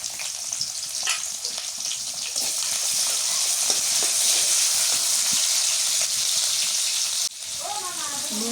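Green chilies go into a hot pan of sautéed greens in a Bengali home kitchen, setting off a loud, steady hiss of oil sizzling that swells and holds close up.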